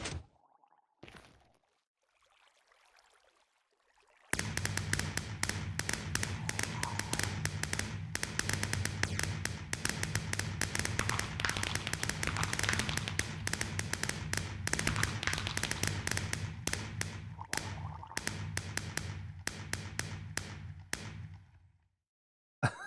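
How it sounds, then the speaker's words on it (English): Minecraft fireworks launched in a dense, continuous barrage of pops and bursts for about eighteen seconds after a brief quiet lead-in, loud and busy throughout with no talk. "let's go with the fireworks"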